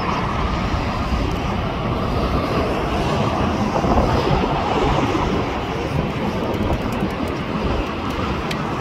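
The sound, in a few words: Lufthansa Airbus A340 jet airliner at airport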